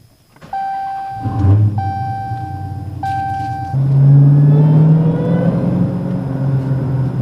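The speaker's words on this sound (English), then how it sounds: "Today we're going to go for some POV driving in the Hellcat." A Dodge Challenger Hellcat with a six-speed manual gearbox is driven in Miami traffic, its engine rumbling up through the gears with a brief rev and deep, steady drone, while a chime beeps repeatedly inside the cabin.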